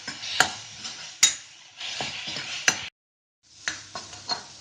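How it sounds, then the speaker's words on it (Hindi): Cumin, coriander, chili and turmeric powder masala roasting in oil in a pan, a soft sizzle broken by sharp spoon knocks and scrapes against the metal, with a brief silent gap before the stirring resumes, close by. "अब इसको अच्छे से भूनेंगे जब तक ये तेल ना छोड़ दे"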